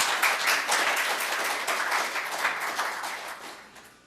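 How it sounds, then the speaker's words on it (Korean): Applause from a seminar audience honoring Professor Park Gyu-rak at a North Korean nuclear threat research meeting, dense steady clapping that fills the room and slowly fades toward the end. "한번 박규락 교수님한테 박수"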